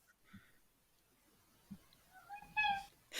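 A pet cat gives a faint, short meow near the end, amid quiet room sounds and a few soft knocks.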